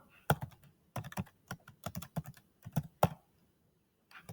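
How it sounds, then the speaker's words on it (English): Keys clack on a Chromebook keyboard in a quick, uneven run of sharp taps with short pauses, close and clear. "And then I'm going to type in helmet."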